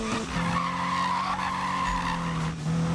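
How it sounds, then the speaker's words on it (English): Cars drifting in the Need for Speed PC game, tires skidding and squealing in a sustained high screech over engine roar, continuous and loud for the whole stretch. "What, are they doing suicide drifts now?"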